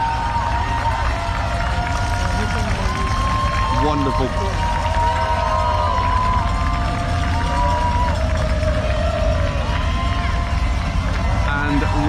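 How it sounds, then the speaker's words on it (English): A large roadside crowd at the Boston Marathon claps and cheers warmly for a passing state trooper, sustained applause and whoops close by, with a commentator speaking over it. "I love that state trooper just lapping up the applause"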